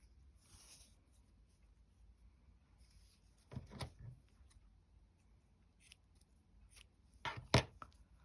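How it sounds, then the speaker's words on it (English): Scissors cut through a paper cover for an altered art journal in a few short, crisp snips, quiet and close, with faint background rustle between them. "We'll cut a bit for the back while we're at it."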